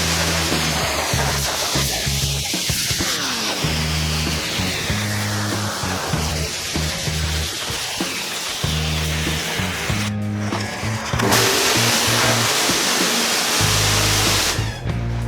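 A Stihl RE 120 pressure washer sprays a flat fan jet, giving a loud, continuous hissing rush of water over a steady motor hum, with a brief dip near the end before the spray resumes.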